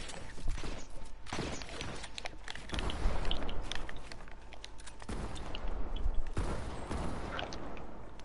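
Rapid gunfire from an online shooter video game, dense bursts of shots and mechanical clatter running continuously at steady loudness with no pauses.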